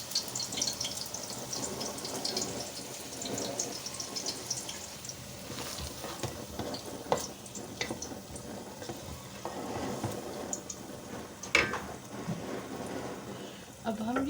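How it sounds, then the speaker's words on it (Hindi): Water is poured into a pot of basmati rice at home, a continuous splashing and gurgling mixed with clatter and kitchen noise over several seconds. "अब हम ये पानी डाल देते हैं इसमें।"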